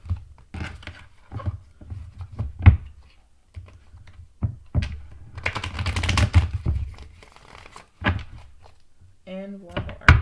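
Tarot cards are shuffled in quick, papery bursts, with soft taps and thumps between them and a person talking intermittently.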